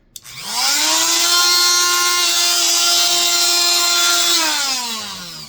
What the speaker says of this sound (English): I have a really fickle Dremel tool.